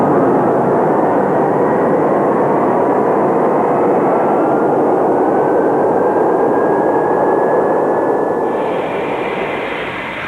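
Lockheed C-141 Starlifter jet airplane roaring loud and steady with broadband engine rush and a faint rising whine, fading slightly at the end.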